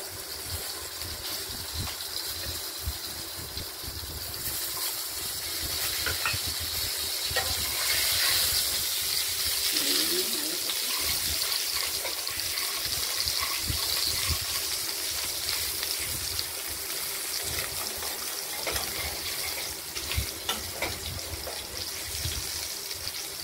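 Cut potatoes fry in a pan with dried red chillies, the base for a katla fish curry, giving a steady soft hiss and sizzle that carries on throughout without talk.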